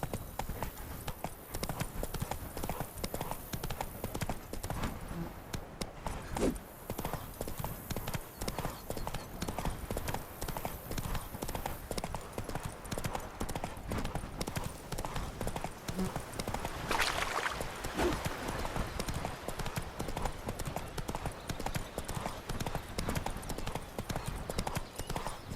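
Roach the horse galloping in The Witcher 3, with steady rapid clip-clop hoofbeats running unbroken and fairly close, plus a brief rushing swell partway through.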